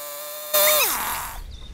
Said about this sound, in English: I'm going to cut down to the line with the chainsaw